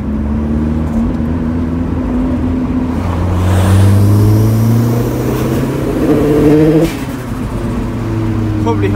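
Turbocharged Mazda MX5 revving from the driver's seat, engine tone rising and falling, loud and close, with a faint high whistle-like scream from an exhaust leak between the downpipe and decat pipe, ending in a sudden drop.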